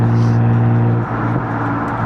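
A BMW 125i E88 with its N52 straight-six engine drones steadily and loudly from close by, a smooth, even hum that dips only slightly for a moment partway through while the car drives along.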